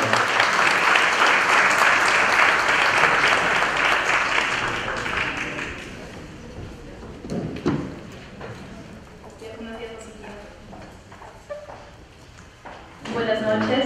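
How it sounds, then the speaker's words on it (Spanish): A hall audience at a notarial seminar inauguration in Trujillo bursts into loud applause that fades after about six seconds, followed by scattered clatter and a voice speaking. "Un aplauso, por favor."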